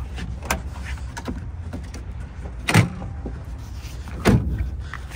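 Tailgate of a 2023 GMC Sierra 1500 Denali pickup truck being swung shut one-handed: a few soft mechanical clunks and rattles, then two firmer latching thuds near the end, heard up close.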